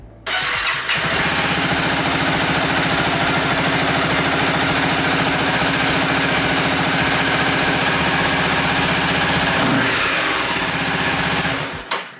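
A Honda CBR250R motorcycle engine starts up after a fuel tank swap and settles into a loud, steady, close rumbling idle for about ten seconds before cutting off, with no talking.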